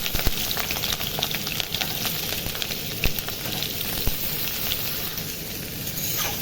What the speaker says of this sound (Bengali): আমি যে আলুগুলো নিয়ে ধুয়ে রেখেছিলাম আলুগুলো নিয়ে আমি দিয়ে দেবো আমি তেলের মধ্যে